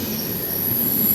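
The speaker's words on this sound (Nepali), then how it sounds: "हाम्रो ट्रेन पनि आइपुग्यो" Train pulling into a station with a sustained high metallic wheel squeal over a steady rumble, loud and close, with no talking.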